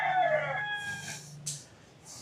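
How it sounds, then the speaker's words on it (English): A rooster crows nearby in a small seaside village in the Philippines, its long call trailing off, followed by a few scattered clucks in the background. "Some chickens, obviously."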